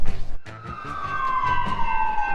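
An emergency siren wails in Phoenix traffic, a loud sustained tone sliding slowly downward over rumbling street noise and rhythmic low thumps nearby.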